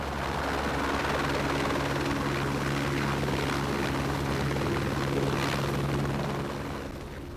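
A helicopter flies salmon from a hatchery in a steady, loud rotor and engine drone, the low blade thump and hum constant throughout with no voices.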